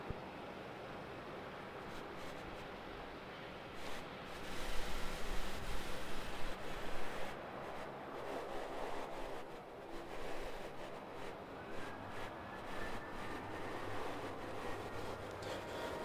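A jet airliner on Velocity flight 853 rolls for takeoff on runway 34 at Melbourne Airport, a distant broad roar that swells and holds over several seconds.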